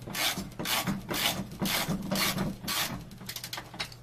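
A nut threaded onto a bolt and tightened while a wall-mounted pull-up bar is installed: close, rhythmic rasping and ratcheting strokes, about eight in quick succession, loud and alone.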